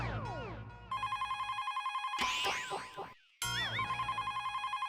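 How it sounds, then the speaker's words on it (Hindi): A home telephone rings loudly in repeated electronic bursts with a brief gap between the ringing patterns; no one speaks over it. "बेटा जरा फोन उठाना।"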